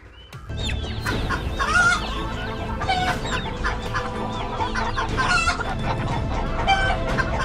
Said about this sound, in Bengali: মুরগিগুলো এরকম করছে কেন?